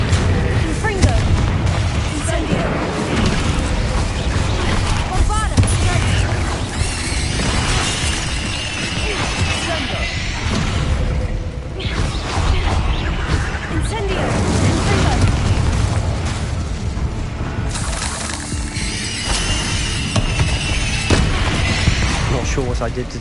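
Confringo, Incendio and Bombarda spells from the Hogwarts Legacy video game burst one after another in dense, loud booms and crackling blasts that overlap almost without a break, with a voice calling out over the din.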